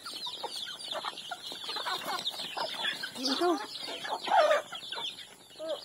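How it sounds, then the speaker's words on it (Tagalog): Farm chickens clucking and calling in a busy, continuous chorus close by, with a rooster-like call in the mix and brief voices talking over the flock. "Ating mga manok, oh."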